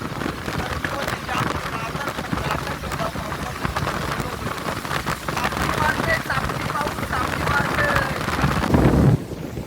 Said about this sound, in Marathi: बाबा पाऊस नुसतं फटकं मारते, फटकं चापती चापती.